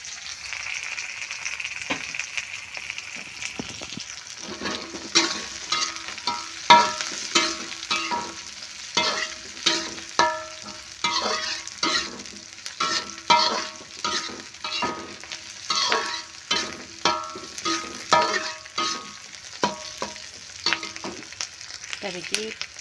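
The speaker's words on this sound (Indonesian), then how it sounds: "Ini digoreng sekalian lombok hijau, brambang, bawang." Green chilies, shallots and garlic fry in hot oil while a utensil stirs them, giving a steady sizzle broken by repeated scraping strokes in an uneven rhythm, close and fairly loud.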